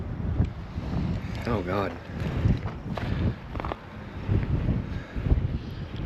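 Wind gusting across open sand hills, buffeting the microphone in a steady, rough rumble throughout, while people talk over it.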